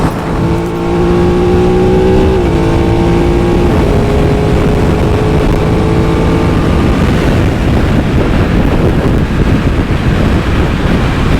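Aprilia RS660 Stars and Stripes limited edition motorcycle pulling hard on a busy road, loud rising engine tones climbing through gears under heavy wind rush.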